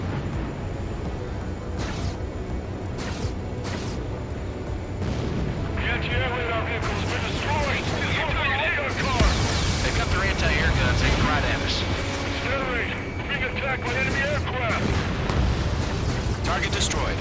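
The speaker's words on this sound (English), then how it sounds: "Fire the AA!" Anti-aircraft guns in the Ace Combat 7 video game fire in dense, continuous bursts mixed with explosions and roaring combat noise, loud and sustained throughout, with game voices talking over the barrage.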